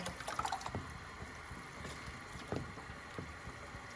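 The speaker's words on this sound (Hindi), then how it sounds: "अब हम इसमें चावलों को ऐड कर देंगे, और बहुत एहतियात के साथ डालेंगे।" Soaked rice is tipped carefully into a biryani pot over chicken, giving soft, faint wet pouring and trickling with a few light taps, then settling quietly.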